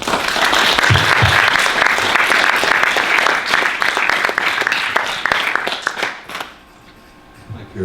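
Warm, sustained applause from an audience at a Los Angeles film screening welcomes filmmaker Robert Beavers, dense clapping filling the room for about six seconds before thinning out and stopping.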